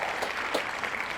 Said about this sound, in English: But anyway, I think we owe him a round of applause.